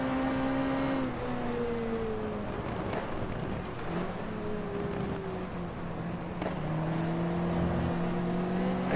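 A Ford Cortina's racing engine in the GT Legends video game, a steady loud drone whose pitch climbs and drops as the car shifts gears, running continuously throughout.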